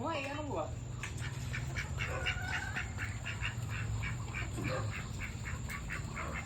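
Ducks quack close by in repeated short bursts, mixed with people talking over a steady background hum.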